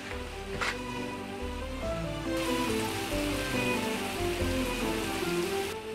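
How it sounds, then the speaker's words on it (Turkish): Steady rain pattering on a surface, a dense continuous wash that grows heavier partway through, with no voices. "Yağmur da arttı iyice."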